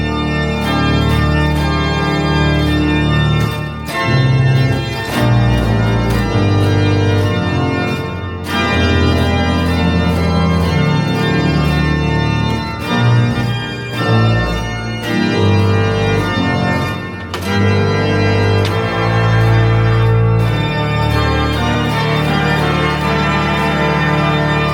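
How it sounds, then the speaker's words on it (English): Italian church pipe organ in a stone church playing with all stops drawn except the reeds, a loud, full, sustained chordal sound with deep bass, changing chords and a reverberant wash, alone without voices. "I've pulled out all the stops of the grade except the reeds, so you can get a first idea of the organ and the amazing sound it produces"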